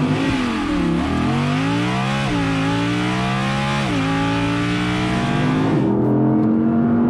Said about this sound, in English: I'm gonna have a play with the engine.